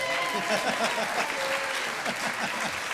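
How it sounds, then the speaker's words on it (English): A live audience claps for an introduced guest at a recorded comedy show, a dense, even wash of applause with faint voices mixed underneath throughout. "let's give him a round of applause"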